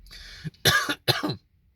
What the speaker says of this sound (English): Sorry about that random cough there for a second.